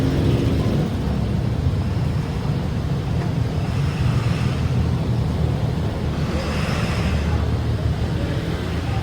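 Honda Click scooter with a charging fault, its engine revving up and running steadily close by, a continuous droning rumble with slight swells in pitch.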